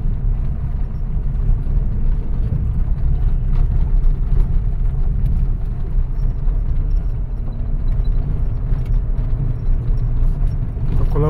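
A car engine runs steadily as the vehicle is moved into place for parking. It is a constant, close, loud low rumble with no break or change in pitch and nobody talking.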